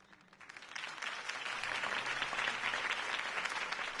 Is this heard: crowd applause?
yes